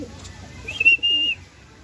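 A pigeon gives a brief soft coo over steady background noise, with a thin high whistle-like tone running alongside.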